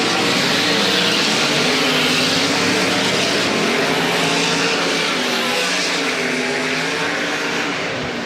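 Race cars circling slowly around a speedway track, several engines droning together in a steady, loud, layered rumble with shifting pitches as the field passes, continuous for several seconds without speech.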